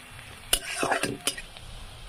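Onion fries in a pan while a utensil stirs it, giving a soft sizzle broken by a few sharp clinks and scrapes against the metal.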